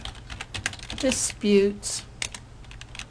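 Rapid keystrokes on a computer keyboard rattle along in an irregular rhythm, close and clear, while a voice briefly speaks over the typing.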